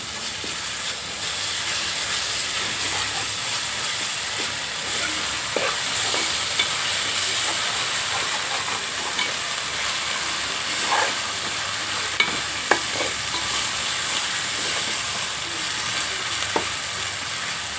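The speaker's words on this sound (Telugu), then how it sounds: "ఇప్పుడు అల్లం వెల్లుల్లి పేస్ట్ వేసుకుంటున్నాం చూడండి" Ginger garlic paste sizzles and fries in a pan of cooking paneer curry base, a continuous hissing crackle with occasional stirring scrapes and clinks, close and steady without talk.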